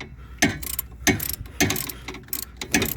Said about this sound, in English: Here using a regular 19, not an impact, just so it fits in a spot.